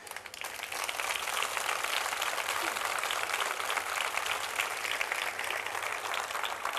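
Audience at a town festival proclamation in Puerto del Rosario, Fuerteventura, applauding in honour of a musician, a steady, even wash of clapping sustained for several seconds at moderate distance.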